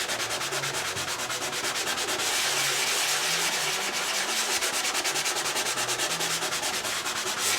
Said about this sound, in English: It's gonna take a little bit of scrubbing to get into there.